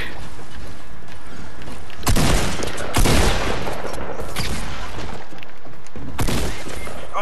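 Fortnite revolver shots ring out as a few loud, sharp cracks spaced seconds apart, each with a bright burst and short tail, over a quieter game background.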